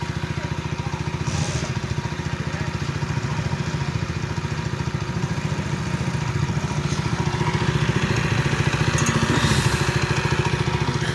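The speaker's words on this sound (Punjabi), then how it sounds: "ਮੋਟਰਸਾਈਕਲ ਦੀ ਪਹਿਲਾਂ ਰਨਿੰਗ ਕਰਨੀ ਪੈਣੀ ਹੈ" A motorcycle engine runs steadily throughout, with a low, even, rhythmic chug close by and a slight rise in loudness toward the end, with no voices over it.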